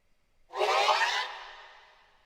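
A single loud, buzzy bowed violin note with a harsh distorted edge, starting abruptly and then fading into a long ringing tail.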